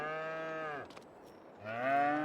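Cows moo inside a cow barn in the Farming Simulator game, two long, loud low moos separated by a short pause with a faint clatter between them.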